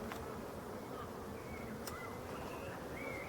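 Honeybees hum densely at a small nucleus hive that has been moved into a full hive, a steady close drone with individual bees whining past now and then, with no voices.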